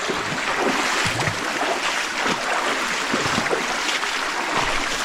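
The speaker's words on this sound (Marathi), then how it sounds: "एकदम जोरदार आहे काय सटकत असं पाणी आहे" Water in a strong, fast-flowing stream rushes steadily and loudly up close, a dense, unbroken churning roar with no pauses.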